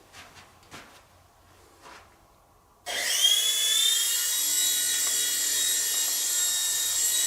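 A World Tech Toys Hornet two-channel infrared RC toy helicopter spins up after a few faint knocks, its small rotor and motor giving a steady, close, high-pitched whirring buzz that continues to the end.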